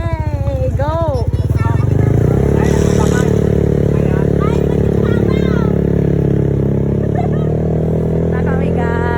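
A motorcycle engine runs steadily and loudly at close range as riders set off, with a brief rev near the start and voices talking over the continuous drone.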